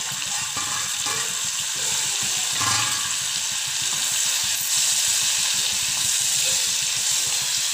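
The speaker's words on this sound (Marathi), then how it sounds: "तेल आणि बटर छान तापलेलं आहे, त्यामध्ये आपण पनीर टाकून घेऊया।" Paneer frying in hot oil and butter gives a continuous bright sizzle with bubbling crackles, steady and close throughout, with no talking over it.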